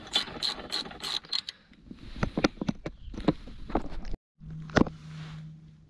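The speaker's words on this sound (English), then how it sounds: "tighten them up then, with the ratchet" Ratchet tightening crash bar bolts on a 1994 Kawasaki KLE500, close rapid bursts of sharp pawl clicks in several runs separated by short pauses, with a brief low hum near the end.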